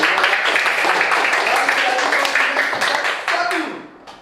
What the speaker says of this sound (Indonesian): tepuk tangan dulu buat kelompok A